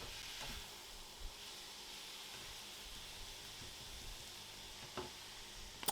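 Beef and green peppers sizzling in a hot pan while being stirred, a steady low hiss of frying with a few soft scrapes and knocks, fairly quiet and close.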